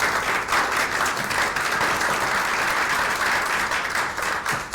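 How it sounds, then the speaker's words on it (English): A conference audience breaks into sustained applause after a talk on AI in drug trials, dense and loud clapping filling the room evenly throughout with no speech over it. "Can we give Vinodh a big round of applause, please?"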